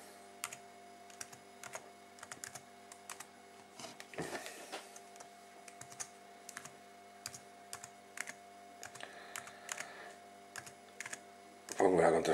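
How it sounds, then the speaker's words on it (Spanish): A password is typed on a computer keyboard in a quiet room, with scattered light key clicks at an irregular pace, a brief rustle midway, and a louder clatter at the end. "Y a continuación ponemos la contraseña."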